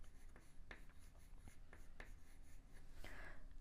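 Pencil shading a small shadow onto paper during a kawaii manga drawing, heard as soft scratchy strokes repeating in short bursts, close and faint, with no talking.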